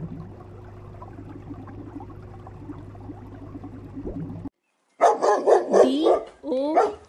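A dog barks in a quick cluster of loud, close yelps and woofs, following a stretch of low background noise in a children's learning setting.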